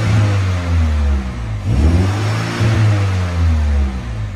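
In sport mode, a stock-exhaust BMW M135i F40 with a gasoline particulate filter revs in two quick blips over a loud, steady idle drone, heard up close with nobody talking.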